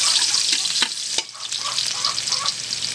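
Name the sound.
garlic sautéing in a hot pot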